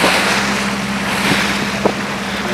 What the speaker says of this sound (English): the boat is moving in the waves